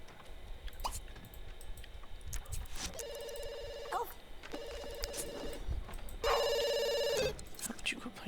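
An in-game telephone rings in The Sims 2, sounding in three bursts of bright electronic trilling amid soft game background sounds; a person talks over part of it.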